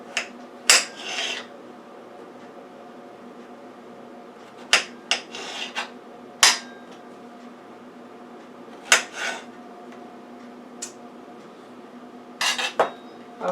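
A knife slicing squash into long strips on a cutting board, with sparse sharp taps and short scraping strokes spread irregularly over a quiet background.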